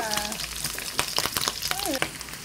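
Garlic frying in rendered pork fat for Filipino dinuguang baboy, a steady close crackle and sizzle with occasional stirring clatter, partly under a speaking voice.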